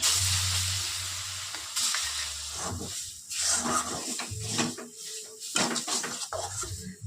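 Lentil paste sizzles and fries in a pan while a utensil stirs and scrapes it, with clattering metal-on-pan knocks, bursts of hissing and uneven pauses as the mixture thickens.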